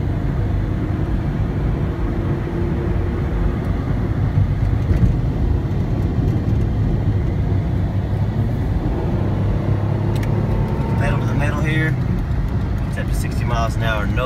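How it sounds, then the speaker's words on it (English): A 2000 Pontiac Grand Am SE accelerating on a highway in rush-hour traffic, a loud, continuous low engine and road drone from inside the car, with a rising tone toward the end. "I'm gonna give it some gas so you can hear it accelerate."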